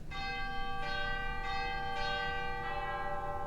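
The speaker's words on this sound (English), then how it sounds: "And then some really loud chimes." Loud chimes from the chime stop of a 1979 Ross King pipe organ in Carr Chapel at Texas Christian University, Fort Worth, strike several bright, sustained notes in quick succession, each ringing into the next.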